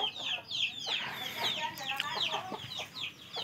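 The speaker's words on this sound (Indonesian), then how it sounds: "ini di sini kandang anakan entok jumbonya ya, teman-teman" Young jumbo muscovy ducklings in a cage chirp and peep continuously, a busy chorus of high calls filling the space at close range.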